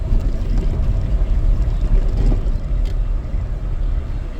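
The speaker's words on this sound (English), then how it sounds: "feel like I'm hearing an air leak, but I guess that's just the truck" A steady, loud low rumble of a truck with a broad hiss on top, continuous and close, resembling escaping air.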